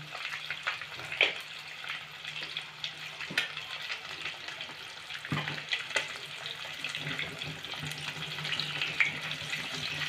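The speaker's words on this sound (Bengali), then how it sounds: "একটু নুন ছড়িয়ে দেবো, দিলে মাছটা এই যে ছিটকাচ্ছে, এটা ছিটকাবে না।" Pieces of rohu fish frying in hot oil with salt sprinkled on, a steady sizzle with sharp spattering pops and clicks scattered through, close and moderately loud, no voices.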